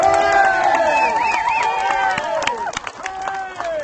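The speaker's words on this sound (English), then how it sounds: "My fellow patriots, give yourselves a round of applause." A crowd at a political rally on a state capitol march cheers, whoops and shouts in a loud, sustained wash, with voices rising and falling throughout and a few sharper shouts near the end.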